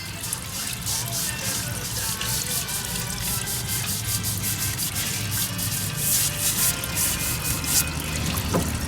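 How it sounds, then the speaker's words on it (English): A red Scotch-Brite pad scrubs rust off a metal part on a motocross bike, a continuous close, gritty rubbing with quick back-and-forth strokes running for several seconds without speech. "with this red Scotch-Brite, you can get any kind of rust or any of that stuff off of it"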